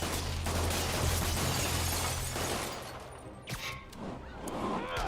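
Enemy gunfire in the Spider-Man PS4 video game, a burst of rapid shots and shattering impacts up front, then thinning into scattered pops and clatter with faint game voices.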